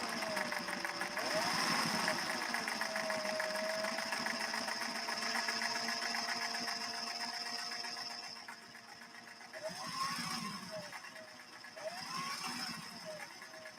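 A classic Singer 40 sewing machine runs close by with a continuous mechanical whir and rhythmic clatter. Its pace eases off, then revs up again in short bursts toward the end.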